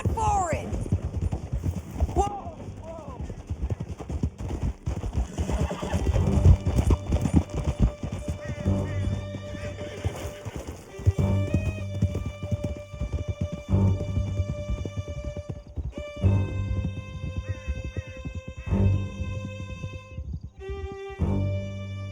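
A horse galloping under its rider in Red Dead Redemption 2, rapid steady clip-clop of hooves with an occasional whinny, under tense spoken dialogue and a swelling music score.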